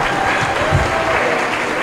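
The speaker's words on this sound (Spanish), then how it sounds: "Dale ese aplauso fuerte a Cristo" A congregation claps loudly and steadily during a deliverance and miracles church service in Bogotá, forming a continuous dense wash of hands with faint voices mixed in.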